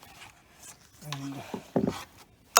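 A Phillips screwdriver turns a screw out of an air vent, giving a few short close scraping, rasping turns with a squeak and a sharp final click, quiet and unaccompanied by talk.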